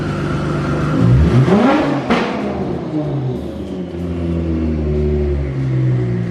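A BMW F80 M3 engine revs up sharply, climbing in a rising whine, then drops back and holds a loud steady drone at close range before the sound falls away near the end.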